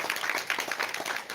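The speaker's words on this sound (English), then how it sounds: "You can clap your hands." An audience at a nursing college airway workshop claps their hands in a dense, continuous patter of many hands, moderately near and steady throughout the short stretch.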